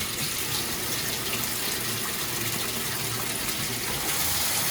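Cold water gushes steadily into a washing machine drum as it fills, a continuous broadband rush like an open tap that stays loud and even throughout, with no talking.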